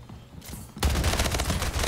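SMG gunfire in the video game Splitgate breaks out after a quiet moment: a loud, rapid, continuous burst of shots that keeps going to the end.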